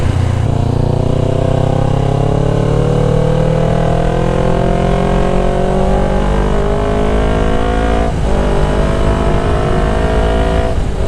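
Kawasaki Ninja 250FI fitted with a Prospeed Viper aftermarket exhaust, ridden on a bumpy road, revving in steady rising sweeps with a brief throttle dip near the end, loud and close throughout with no talk.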